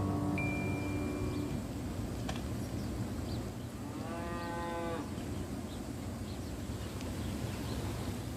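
Dairy cows at a farm give a single drawn-out moo in the middle, set against steady outdoor background noise with a faint thin tone near the start.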